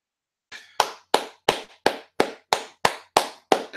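One person claps alone, close and crisp, with about nine evenly spaced claps in a steady rhythm after a short silence.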